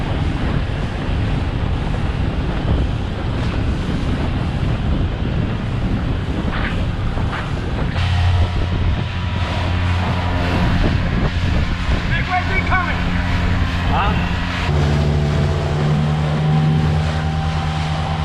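A small boat running at full throttle on open water, its engine drone nearly buried under constant loud wind buffeting and water rush, with a deeper engine tone emerging in the later seconds.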